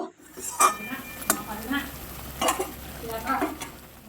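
Fried paneer is stirred through a masala in a pan, with scraping spoon strokes and a few clinks against the metal over a low sizzle, heard up close.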